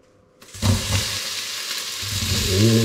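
Oil warming in a pan over medium heat begins to sizzle after a brief quiet start, a steady broadband frying hiss that thickens and grows louder toward the end, with a low hum underneath.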